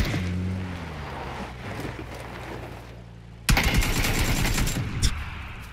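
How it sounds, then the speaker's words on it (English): Gunfire in the online shooter PUBG, with a steady low rumble first, then a sudden close burst of rapid automatic shots that rattles on for over two seconds with a sharp louder crack near the end. "Where are you shooting me from, mate?"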